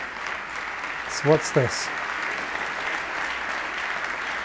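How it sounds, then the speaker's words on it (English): Applause from an audience in the VR orchestra game Maestro VR forms a steady bed of clapping throughout, while a person briefly speaks over it. "Okay, you can stop clapping."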